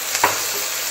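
White mustard paste ground with salt is stirred into a pan of ingredients for a curry of thankuni leaves with prawns. A steady sizzling hiss carries one quick spatula scrape early on, with no talk.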